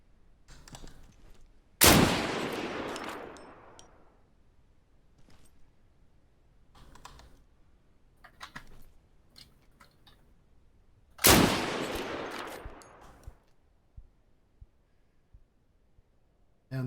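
Two loud, sharp gunshot blasts with long decaying echoes, about nine seconds apart, from a player firing a weapon in the online survival shooter Deadside, with faint clicks and scattered noise between them and no talk.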